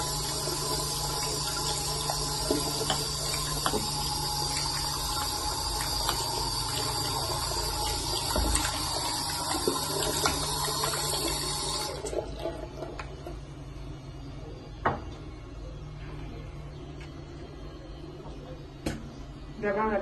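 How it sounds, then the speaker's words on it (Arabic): Water runs steadily from a tap while feet are washed during a home pedicure routine, with a continuous splashing flow that grows quieter and thinner partway through, broken by occasional small knocks. "غادي نغسلو دابا رجلينا ديالنا"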